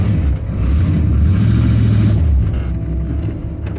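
A 3rd-generation Camaro or Firebird with a freshly installed 3-core radiator drives off, its engine a loud, steady low rumble that swells briefly and then eases.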